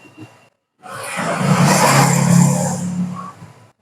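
A car passes on the road beside the house, a whooshing engine swell that builds and fades over a few seconds, fairly loud and close, after a brief quiet gap.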